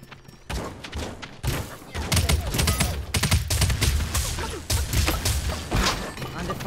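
Sustained video game gunfire rattles in dense, loud bursts of rapid shots, punctuated by thuds, with brief gaps between volleys.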